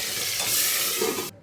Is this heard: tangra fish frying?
yes